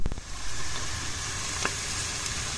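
Onions frying in melting butter in a pot for keşkek wheat soup, giving a steady, close hiss of sizzling fat with a few faint clicks and no talking.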